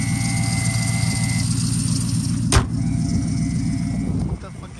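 A straight-piped Dodge Charger R/T idles with a steady low exhaust rumble under a thin, constant high whistle from the belt. A brief click sounds midway through, and the idle holds steady to the end.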